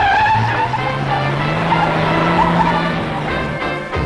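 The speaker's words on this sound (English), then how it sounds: "You mean to say he's going to jump that sedan over all those cars?" A stunt sedan accelerates toward a jump over a row of parked cars, its engine roaring loud and steady with a rising tone and tyre noise, while a crowd and commentator murmur faintly underneath.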